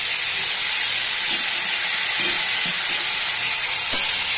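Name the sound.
stirring figs with strained yogurt in a hot pan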